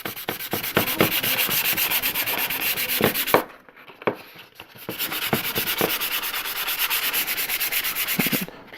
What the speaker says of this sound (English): I'm gonna see if I can sand it out.